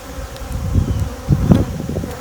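Honey bees buzz around their hives up close, a loud, wavering hum that swells and fades as individual bees pass near, with no voices.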